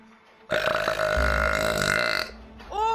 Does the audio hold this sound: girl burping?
yes